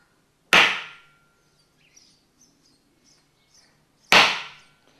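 A spring-loaded centre punch striking a metal car-build panel, two sharp, loud metallic snaps about three and a half seconds apart, with faint birdsong in the quiet between.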